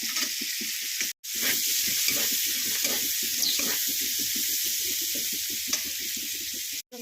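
Garlic, capsicum, green peas and onion fry for chicken chow mein, a steady loud sizzle broken by two brief silences, with stirring clatter running through it.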